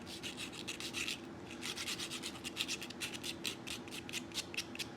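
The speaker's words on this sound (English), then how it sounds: "I'm turning it and sanding it at the same time." Steady rhythmic rasping of sandpaper against a turning ash wood piece, quick repeated strokes over a low continuous hum, with no talking.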